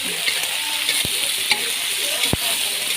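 Cucumber, onion, tamarind and tomato fry together in a pan for a Betawi sour-spicy beef dish, giving a steady bright sizzle with a few sharp clinks of a utensil stirring against the pan, no voices.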